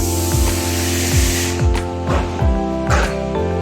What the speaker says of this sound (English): This is the welding machine.